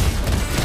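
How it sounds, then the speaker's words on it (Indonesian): A single loud, booming shot from Lesley's sniper rifle in the mobile battle game Mobile Legends, a short, heavy blast with a rumbling low end, heard alone. "Satu tembakan, satu nyawa melayang."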